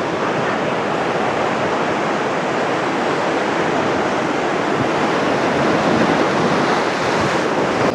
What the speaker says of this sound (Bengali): সমুদ্রের গর্জনটা শোনো।